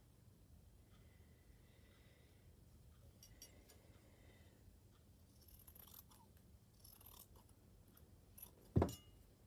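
Scissors snipping out small fabric pieces for slow stitching, a few faint, quiet cuts in a calm room, ending with one sharper, louder snip near the end.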